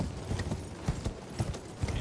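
Horse hooves clip-clop in Elden Ring, a steady series of close, sharp hoofbeats in a regular galloping rhythm, moderately loud and alone.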